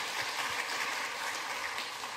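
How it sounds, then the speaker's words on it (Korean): Steady broadband clapping fills a church sanctuary as the congregation welcomes four visiting missionaries from Pakistan, a continuous even wash of many hands at moderate distance with no voices over it. "우리 박수로."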